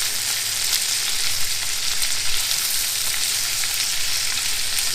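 Green beans, garlic and bacon sizzle steadily in a hot pan, a dense, even hiss of frying close up that stays constant with no voices.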